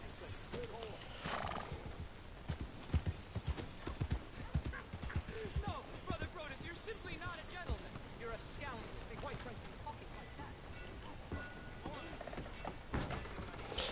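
Horse hooves clip-clop steadily in Red Dead Redemption, with the horse snorting and whinnying among game sounds while people talk over it.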